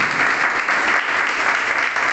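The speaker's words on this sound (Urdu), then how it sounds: "تالیاں بجاتے زوردار" A church congregation claps loudly, a dense continuous burst of applause at steady volume throughout, with no voices standing out.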